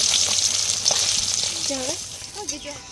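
A large fish frying in oil in a pan gives a continuous close hiss and sizzle throughout, while a person talks faintly over it.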